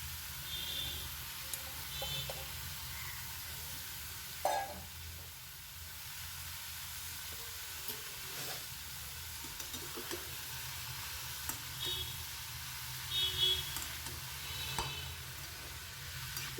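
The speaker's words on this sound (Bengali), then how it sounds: "ভালো করে নেড়ে চেড়ে পেঁয়াজটার সঙ্গে মিশিয়ে ঢাকা দিয়ে দেব" Chopped bottle gourd fries with onion in a pan, a quiet, continuous sizzle broken by intermittent spatula scrapes and knocks as it is stirred, close but low in level.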